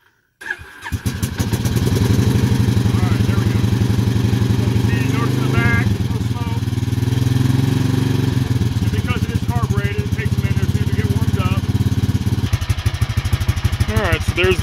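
A Bombardier Traxter ATV engine cranks to life after a short silence, then settles into a steady, loud, close running chug with slight throttle blips, while someone talks over it.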